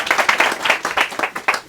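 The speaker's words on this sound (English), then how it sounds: "Again, need a round of applause." Applause from an audience at a state park birthday gathering, a short burst of dense clapping with uneven peaks, fairly close and lively.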